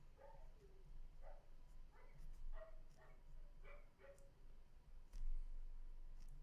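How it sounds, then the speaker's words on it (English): Several dogs bark outdoors at a distance, giving a scattered run of faint, repeated barks and yips over a low background hum. "Got some other dogs barking out there"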